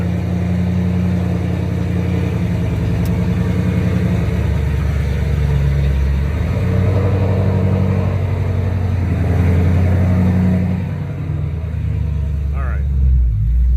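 A loud car engine rumbles close by, its throaty idle rising and falling with a few revs across the whole stretch.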